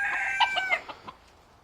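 A Poland chicken in a pen gives a quick run of high, close clucks and squawks, loud at first and then tailing off into quiet rustling.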